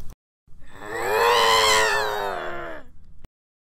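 A cat yowls in one long, loud, rising and falling snarling meow that lasts nearly three seconds, with no talk over it.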